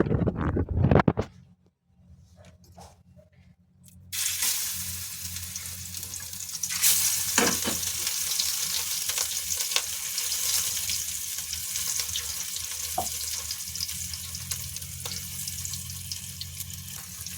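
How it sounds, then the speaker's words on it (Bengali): Hilsa fish frying in oil in a wok, a steady close sizzle and hiss after a brief quiet gap, with occasional soft spatters and clicks throughout. "হালকা করে ভাজবো ইলিশ মাছ"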